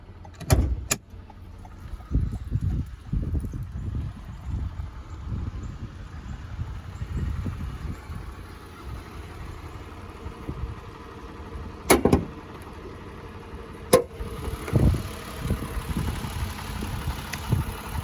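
A 2022 Toyota Highlander XLE with a V6 six-cylinder engine idles quietly and steadily, broken by a few sharp clunks like a door or hood latch, with no talking.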